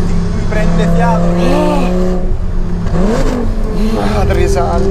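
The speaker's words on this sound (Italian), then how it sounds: "Da sottolineare lo scarico originale." A Lamborghini Superleggera on its original exhaust revs hard nearby, engine pitch sweeping up and down in repeated bursts, with people talking over it.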